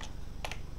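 A few quick keystrokes on a computer keyboard, two or three close, sharp clicks in a brief burst over a faint low hum, with no talk.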